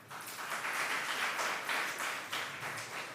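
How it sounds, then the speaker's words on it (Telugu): A church congregation applauds during a Sunday Mass. Soft, even clapping from many hands comes in gentle waves and stays fairly distant and quiet, with no talking over it. "దానికి గట్టిగా చప్పట్లు."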